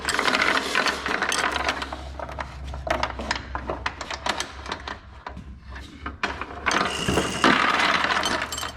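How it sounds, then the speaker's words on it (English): A ratcheting hoist lifts a lawn mower in a workshop, giving rapid clicking pawl bursts in uneven runs, loud and close, with brief pauses between strokes. "you got to have some kind of hoist to pick up like this"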